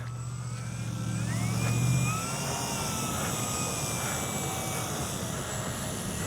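An H-King Yak-11 RC model airplane, electric-powered on a Turnigy 5000 battery, flies overhead with a thin whining motor tone that rises and falls as it passes, over steady wind rumble outdoors.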